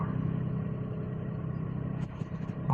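A 2008 Toyota Crown Athlete 3.5 V6 engine idles close by with a steady low rumble and hum, fairly loud and even, with a small clunk near the end.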